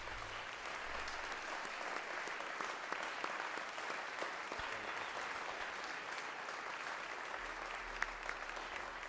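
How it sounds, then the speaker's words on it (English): A school assembly applauds the senior girls who won the Vancouver Island High School Girls Rugby Sevens championship, with dense, steady clapping from a large crowd that carries through the whole stretch without talk. "will you stand up and take a round of applause and a bow, please?"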